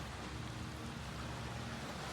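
Steady sea surf washes continuously, faint and broad, beside a seaside cafe on the coast of Rayong, Thailand, with a low rumble beneath and no voices.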